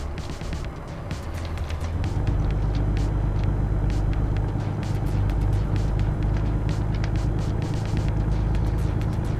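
A truck in American Truck Simulator slows in traffic, its deep engine drone rumbling steadily and loud, with hissing air-brake bursts through the rest of the run.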